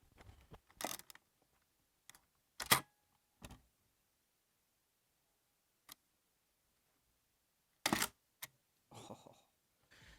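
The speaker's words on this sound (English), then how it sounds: "One of the coolest things about the Mamiya RB67 is the satisfying sounds it makes." A Mamiya RB67 medium format camera gives a series of sharp, separate mechanical clicks and a shutter snap, crisp and close in a quiet room with pauses between them.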